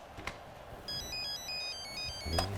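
A mobile phone ringtone plays a bright, stepped electronic melody of repeated beeps that starts about a second in and continues steadily at moderate loudness, over quiet background room noise with a low thump near the end.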